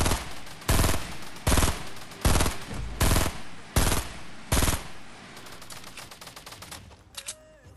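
Repeated full-auto bursts crack out from a video game shooter in a duo match, five or six loud, evenly spaced volleys that taper into scattered quieter shots and a few light clicks at the end, with no talking.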